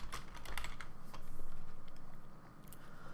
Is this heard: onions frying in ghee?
no